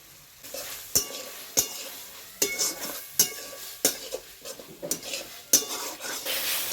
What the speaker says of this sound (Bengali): এই সেদ্ধ করা মটরটা আমি দিয়ে দেবো, কিন্তু এটা মশলাগুলোর সঙ্গে ভালোভাবে আমি কষিয়ে নেব।